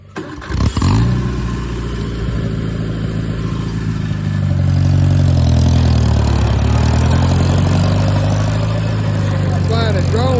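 An IH Farmall tractor engine runs close and loud while mowing an overgrown field, a steady low chugging drone that rises in level partway through, with a brief clunk at the start.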